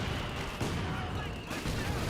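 Rapid, continuous gunfire from an anti-aircraft half-track in Company of Heroes 2, loud and dense bursts overlapping with booming battle noise across the whole moment.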